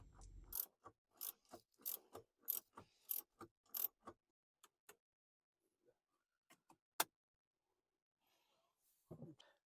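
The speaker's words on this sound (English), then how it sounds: "Tighten the bolts down to 94 Newton meters or 68 foot-pounds of torque." A ratchet tightens bolts on a center console MOLLE cage in a Rivian R1T/R1S, giving short bursts of crisp clicks in a quiet space, then a few sparse single clicks.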